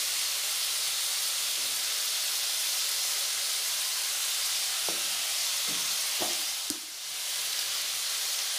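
Washed potatoes fry in hot oil for aloo posto, giving a constant loud sizzling hiss with a few brief clicks and pops near the end.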